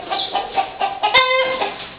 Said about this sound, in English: All kinds of chickens here.